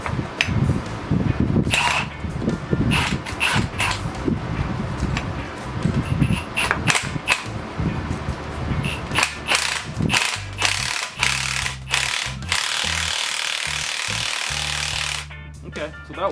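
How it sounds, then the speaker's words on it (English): An impact gun hammers a bolt to press a solid bushing into a Wide Body V8 FD RX7, with loud, close rattling bursts in repeated runs and pauses, while a person talks between them. "On this side I'm just gonna use a impact gun and run it"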